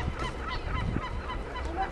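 Gulls cry in a quiet island harbour off season, several honking, overlapping calls over a steady background of wind and ambient noise.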